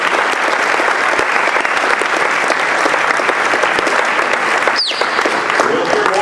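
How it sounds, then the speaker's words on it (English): Sustained audience applause, loud and dense, a large crowd clapping steadily throughout with a brief whistle-like squeal near the end. "Let's give another round of applause for all of our coaches"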